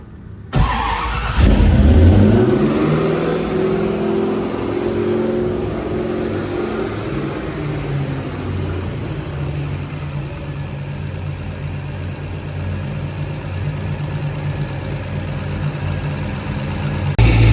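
A BMW E30 M3 with a custom engine harness cranks and fires up with a loud surge, then settles into a steady, close idle that runs on evenly, with no voices.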